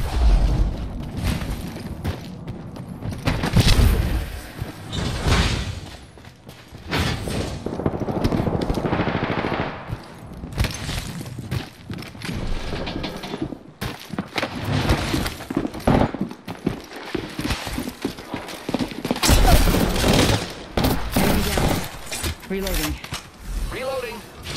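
Gunfire and explosions in Apex Legends: dense, continuous combat with rapid shots, mechanical clatter and booms throughout, loud and busy with voice chatter mixed in.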